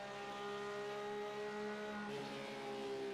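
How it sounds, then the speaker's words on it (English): A Porsche Cup race car engine roars steadily and loudly at close range, its harmonic drone holding a constant pitch before dropping slightly partway through, with no speech. "Listen to that car roar."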